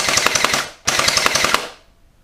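Two rapid bursts of gel ball blaster fire, each a quick string of sharp clacking shots, close and loud, with a brief pause between bursts.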